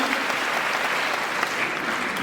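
Dense, steady applause from a crowd greets a ward representative (MCA) being introduced at a gathering. The clapping stays loud and even throughout, with no talk over it.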